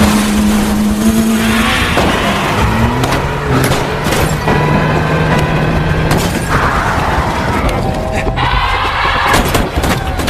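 Car escaping in a film chase scene, with revving engine roar, tyre squeal and thuds of impacts, loud and dense with shifting pitch.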